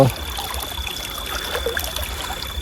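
Irrigation water runs into a farm field at night with a steady, gentle trickle and faint gurgle, continuous and moderately quiet throughout.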